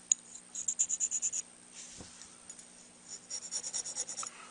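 A file rasps against the tip of a handmade saxophone reed in quick, rhythmic strokes, with one run of about eight strokes, a short pause, then another run, all close and fairly quiet.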